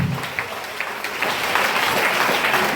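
A church congregation applauds and cheers in a dense, continuous wash of clapping that holds steady and slightly swells, filling the room.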